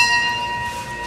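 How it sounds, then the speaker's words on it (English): A big bell rings with a sustained metallic tone that hangs steadily over a busy indoor mall background, moderately loud and near. "Ring the bell there."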